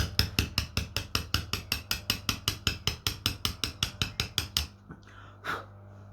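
A hammer drives a chisel down the centre of a stone to cut a groove. About twenty sharp, evenly spaced metallic strikes ring out close and loud in a rapid steady rhythm, then stop.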